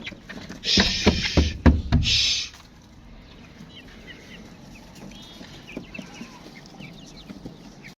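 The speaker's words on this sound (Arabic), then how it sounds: "الفراخ يا جماعه البلدي بيحب يلعب كده في التبن" Native chickens scratch and play in straw, with a burst of loud rustling and clucking over the first few seconds, then quieter soft rustling and faint farmyard background.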